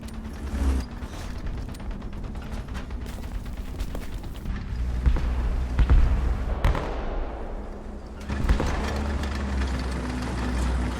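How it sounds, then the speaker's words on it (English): A vehicle engine in War Thunder, rumbling low and steadily with mechanical clanks and a few sharp bangs, loud and continuous throughout with no talk. "Got engine noise front."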